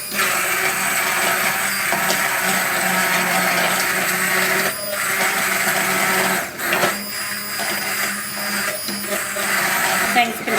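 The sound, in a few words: immersion blender pureeing soup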